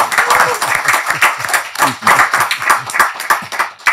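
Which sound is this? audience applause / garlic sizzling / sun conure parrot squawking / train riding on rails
audience applause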